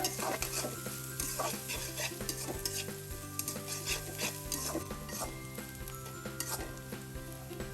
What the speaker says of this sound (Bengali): আমি এক মিনিটের মতো নাড়াচাড়া দিব